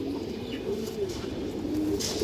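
Fancy domestic pigeons, including a female, coo nearby in low, rolling repeated calls over soft background noise.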